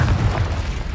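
Incendio fire spell impact in the video game Hogwarts Legacy, a brief loud booming burst with a low rumbling tail.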